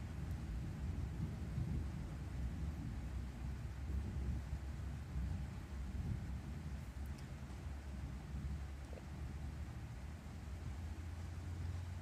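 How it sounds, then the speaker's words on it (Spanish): A thunderstorm brings deep, continuous rumbling thunder with a rain-like wash of noise, holding steady and fairly loud for the full twelve seconds with no voices. "Da miedo los truenos de que se corte la luz."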